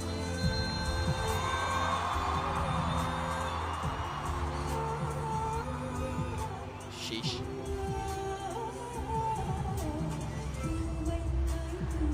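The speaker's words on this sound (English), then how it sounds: "The crowd's going feral" A concert crowd cheers and roars during a performance, a sustained, distant mass of voices blended with the music, briefly dipping midway before swelling again.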